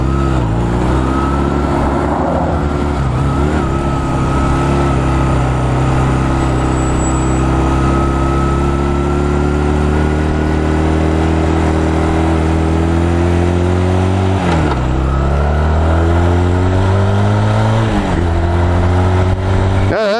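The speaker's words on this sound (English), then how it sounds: "I'm surprised this bike has the power to pull my fat ass all the way to 70 miles an hour." A small motorcycle engine pulling hard while riding up toward highway speed, a loud steady drone with rising pitch through gears, wind rush constant and close throughout.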